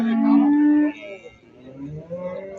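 A dairy cow at a busy livestock market in Ganja, Azerbaijan, gives one long, loud, low moo close by, followed by quieter market murmur and distant voices.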